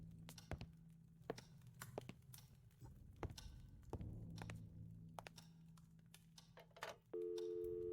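A telephone in the point-and-click horror game Scratches: Director's Cut. Soft clicks of handling the phone lead into a steady electronic dial tone at the end, clean and close.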